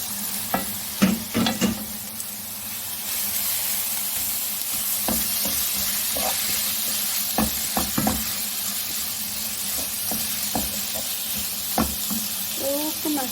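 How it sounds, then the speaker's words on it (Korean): Bracken fern (gosari) being stir-fried in a pot for Korean seasoned namul, a low steady sizzle and hiss broken by scattered clicks and scrapes of stirring, moderately quiet throughout. "그 냄비에 고사리를 볶겠습니다"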